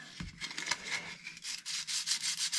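Steady rasping of sandpaper keying the plastic surface of Ford Escort RS Cosworth bonnet vents in quick back-and-forth strokes, close by and fairly loud, with no voices.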